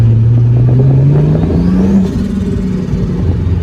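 A VR6 turbo engine swapped into a Toyota MR2 Roadster revs up loud and close, its droning note climbing steadily in pitch for about two seconds before settling into a rougher, lower hum.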